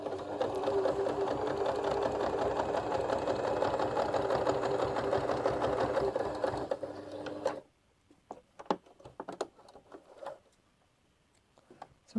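A sewing machine stitches a fabric laundry bag in a steady, continuous motor whir for about seven seconds, then stops, leaving scattered light clicks and handling taps.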